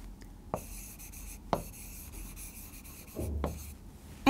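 Marker or chalk writing on a board during a chemistry lesson, a few quiet scratchy strokes separated by short pauses.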